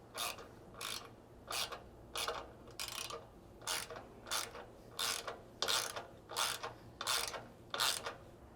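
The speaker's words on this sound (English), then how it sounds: "install your self-tapping bolts. Just be sure not to over tighten these" Self-tapping bolts being tightened on a Lexus GX460 rock slider, giving about thirteen evenly spaced bursts of ratcheting, clicking wrench strokes, close and moderately loud, with no talking.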